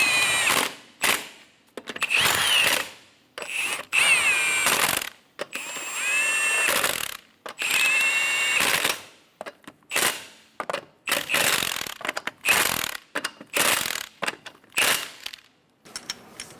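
A power drill snugs down bolts while working on a 2007-2012 Nissan Altima, giving repeated short whirring bursts with rising pitch, stopping and starting in quick succession over the whole stretch.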